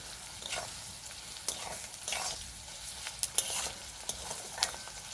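Onions stirred and fried in a pan for chicken malai curry, a steady sizzle broken by repeated scraping strokes of a spoon and a few sharp clinks, close and fairly loud with no voices.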